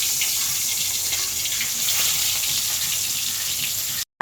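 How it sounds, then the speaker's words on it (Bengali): Tilapia coated in turmeric and salt fries lightly in hot oil, giving a steady, bright hiss that runs evenly and fairly close before cutting off abruptly near the end. "এখন মাছটা আমি হালকা ভেজে নিব।"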